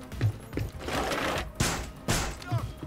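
MP5 submachine gun fire in the video game Rainbow Six Siege, with short bursts of shots cracking out at intervals over a busy background and a faint voice.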